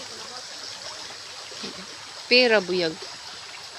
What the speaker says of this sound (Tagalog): Tuloy-tuloy yung mga agos ng tubig di ba?